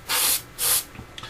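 An airbrush sprays paint onto a 1/48 scale Eduard FW-190 A5 model in two close, steady hissing bursts of about a quarter second each, followed by faint clicks.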